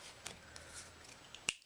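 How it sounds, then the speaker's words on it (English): A single crisp finger snap during a card trick, sharp and close near the end after a few faint card handling rustles. "if I snap my fingers, the king's has vanished like so"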